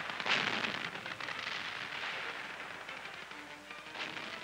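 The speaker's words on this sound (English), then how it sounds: "German anti-tank gunners in strategic emplacements stop the Russian drive." German anti-tank guns in field emplacements firing on Russian tanks in WW2 footage, heard as a dense, continuous roar of distant blasts and rumbling gunfire with no clear gaps.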